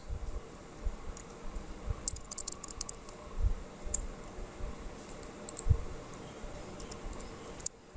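Code being typed on a computer keyboard, giving scattered light clicks and taps in an uneven rhythm, faint and close, with a low background hum and no speech.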